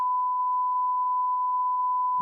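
A single unbroken electronic beep holds a pure, steady pitch for about two seconds, loud and alone, cutting off abruptly at the end.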